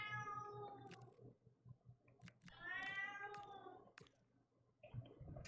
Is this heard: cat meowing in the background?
yes